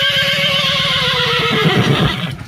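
A horse whinnies loudly and close by in a long descending neigh, with a shuffle of movement and a brief clop-like knock toward the end.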